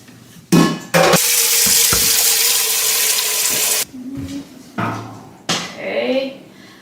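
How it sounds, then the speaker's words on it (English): Tap water runs into a large cooking pot in a kitchen, a loud steady gushing stream lasting about three seconds, framed by metallic clanks of the pot and brief bursts of running water; a voice talks in between. "we need to take a large pot and fill it up with water"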